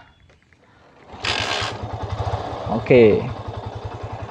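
A motorcycle engine catches after a kick-start at about one second and settles into a steady, close idle with a pulsing low thump. Brief talk and a short mechanical clack sound over it.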